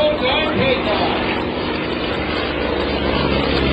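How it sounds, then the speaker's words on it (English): An F-18 fighter jet passes at an air show, a steady loud roaring engine wash filling the clip throughout. "There goes the F-18, there goes the F-55."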